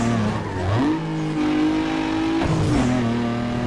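Video-game car engine in a sprint race in Need for Speed: Underground 2, a loud, steady roar that climbs in pitch, drops briefly at a gear change, then rises again over about four seconds, with no talk.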